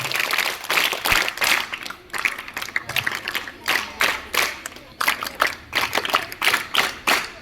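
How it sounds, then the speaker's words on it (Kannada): Audience at a government girls' high school parliament election event in Chikkaballapur clapping in encouragement of students: sustained, dense applause in rhythmic bursts, moderately loud and close, with no clear talk over it. "ಚಪ್ಪಾಳೆ ತಟ್ಟಿ ಎನ್ಕರೇಜ್ ಮಾಡಿ."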